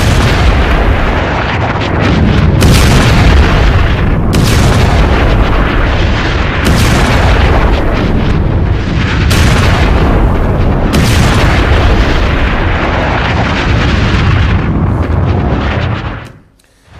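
Israeli strikes on Hezbollah positions set off loud, continuous booming explosions, heavy rumbling blasts rolling over one another for about sixteen seconds before cutting off abruptly.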